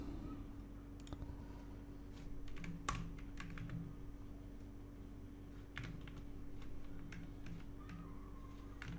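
Someone types text on a computer keyboard, producing quiet, irregular runs of light key clicks over a low background hum.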